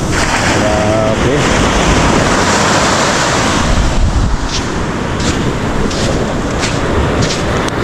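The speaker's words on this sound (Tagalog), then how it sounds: "And that's the waves over there." Ocean surf at Pundaquit Beach in San Antonio, Zambales, a loud, continuous wash of breaking waves mixed with heavy wind buffeting the microphone and no clear pauses.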